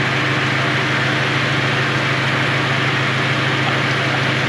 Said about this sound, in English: We're gonna give it some revs to warm it up even faster.